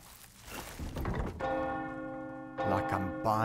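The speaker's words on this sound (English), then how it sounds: "Oh, is this when she rings the bell?" A deep church bell in Resident Evil 4 Remake tolls loudly with a long ringing, harmonic sustain, struck once and then again, over rumbling game ambience.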